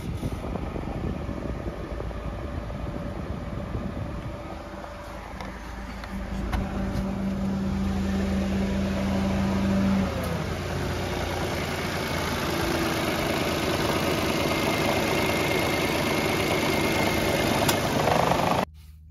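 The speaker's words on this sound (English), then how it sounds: "the Supercap Bank will start the car" A car engine powered by a supercapacitor bank in place of the underhood battery runs at a steady idle, a continuous close rumble with a whine midway, ending abruptly.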